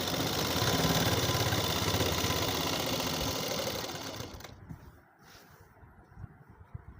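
An electric sewing machine stitching heavy suit fabric runs with a steady, loud motor whir for about four seconds, then stops, leaving quiet handling noises and light clicks.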